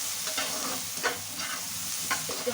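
Sliced green chillies sizzle in oil in a pan while being stirred, a steady close frying hiss with several scraping strokes of the spoon, no voices.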